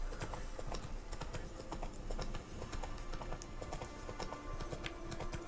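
Steady clip-clop of a horse's hooves in The Witcher 3, a continuous close trotting rhythm with faint game sounds underneath.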